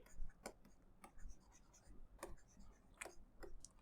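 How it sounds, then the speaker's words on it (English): Pen writing notes during a business economics lesson, a few short, distinct scratchy strokes spaced irregularly over a few seconds, close and fairly quiet with no talking. "So let me write this one as well."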